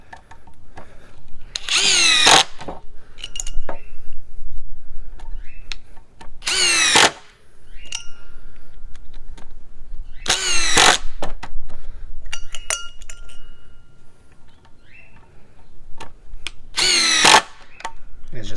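Ryobi P239 brushless impact driver on a P191 3 amp hour battery driving five screws, heard as four loud rattling bursts of a few seconds each, separated by quieter handling clicks and clinks.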